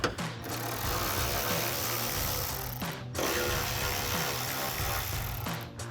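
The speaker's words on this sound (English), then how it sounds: "I'm going to switch to a 7mm socket to remove these 2 screws" A ratchet fitted with a 7mm socket removes screws during removal of a rear spoiler on a 2024-2026 Mustang Fastback, producing fast continuous close clicking in long runs broken by two brief pauses.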